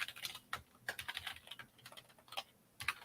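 Someone types an email on a computer keyboard in quick, irregular bursts of soft key clicks, close and fairly quiet, with no voices.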